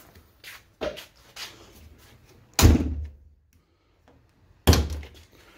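A 1983 Porsche 944 car door with a newly fitted handle, heard as a few light latch clicks followed by two solid, close door thunks spaced a couple of seconds apart, with no talking.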